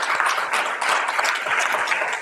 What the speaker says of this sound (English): This applause is for you.